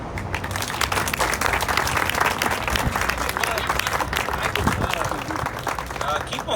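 An audience claps at a dedication ceremony for a historical marker, dense steady applause close and loud throughout, with a voice speaking over it.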